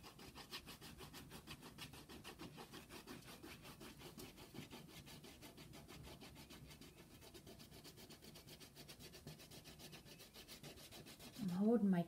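A crayon scratches rhythmically across paper while drawing a pig, with rapid close back-and-forth rubbing strokes throughout and a louder scrape at the end.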